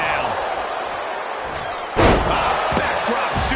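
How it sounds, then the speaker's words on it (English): A wrestler is slammed to the mat in the WWE 2K25 video game, giving one heavy thud about midway over a steady roar of arena crowd noise, and a few smaller impacts follow. "Gets slammed down."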